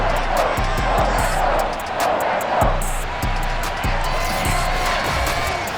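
Sold-out stadium crowd at Gillette Stadium in the video game Madden NFL 22, a steady roar with cheering and clapping beneath a commentator's voice, plus rhythmic thumps through the crowd noise.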